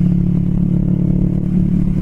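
Kawasaki Vulcan S 650 Cafe ABS, a 650cc cruiser, rumbling steadily while ridden, a loud, even low engine drone holding a constant pitch with no voices over it.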